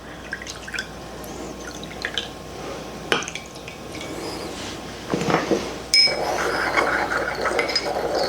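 Filtered water poured into small ramekins in a home kitchen, heard as close dripping and trickling with small clinks against the dishes, building to a steadier pour near the end.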